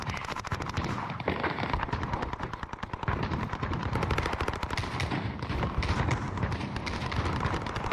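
Rapid, dense gunfire from shotguns and pistols in the video game Warzone, with loud continuous shots and bursts running through the whole stretch and no talk over them.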